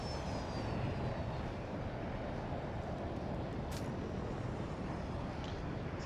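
Jet aircraft roar through a battlefield video game dogfight, a continuous broad rushing engine noise held steady and fairly distant throughout, with a faint high whine fading early on.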